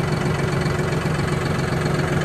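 John Deere 5065E utility tractor engine idling in gear, a steady loud low diesel rumble with a rapid even pulse and no change throughout, close by, no talk.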